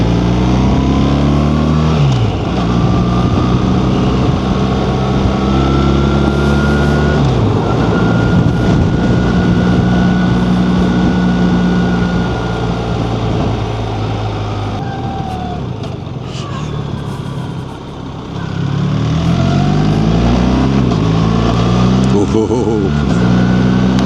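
A BMW R1300 GS Adventure motorcycle rides through tight corners, its steady engine drone rising in pitch, then dropping sharply with each gear shift before climbing again, loud and close under wind rush.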